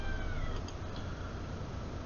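A cat gives a faint meow over a steady, noisy background hum, a short voiced call in a quiet indoor room.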